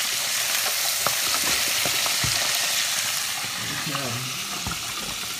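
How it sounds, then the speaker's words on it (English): Chicken livers frying in hot grease, a loud continuous sizzle with crackling pops and spatters close up, while a voice talks briefly partway through. "But it's sizzling in there."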